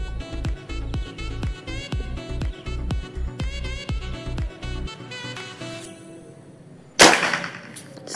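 A PCP hunting air rifle fires a single sharp, loud crack near the end, coming after a stretch of rhythmic music and followed by a brief fading tail.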